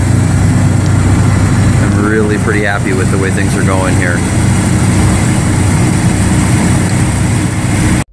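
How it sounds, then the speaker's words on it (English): Dodge Ram 2500 with an 8.0L V10 engine idling steadily and fairly quietly close by, a constant low rumble under a man's speech until it cuts off at the end. "That engine's really quiet now for a V10."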